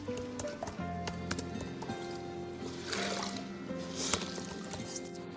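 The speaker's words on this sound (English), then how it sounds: "now I'm rinsing it with clean water and a clean cloth" A wooden cabinet is rinsed with clean water and a wet cloth, giving faint trickles, drips and soft wiping sounds up close, with no talking.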